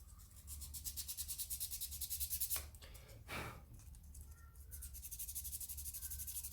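A wooden wolf-head pendant is hand sanded with 400 grit sandpaper, quick rhythmic rubbing strokes that are faint and close, pausing briefly partway through before the scratchy back-and-forth resumes.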